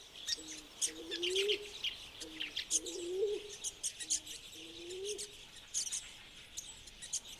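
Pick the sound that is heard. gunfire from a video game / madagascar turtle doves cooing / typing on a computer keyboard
madagascar turtle doves cooing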